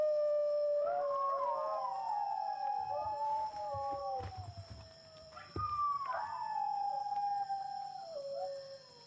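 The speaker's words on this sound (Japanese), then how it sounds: "遠吠えを録音したテープを流し" A taped recording of singing dog howls plays back outdoors: long, wavering, sliding wails that rise and fall, one howl fading around the midpoint before a second swells up, with no talking.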